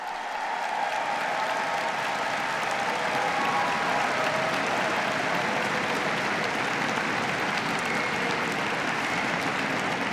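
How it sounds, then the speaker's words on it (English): Sustained, dense applause from a large rally audience, a continuous roar of clapping with light crowd noise, steady and loud throughout. "Let's give them both a round of applause."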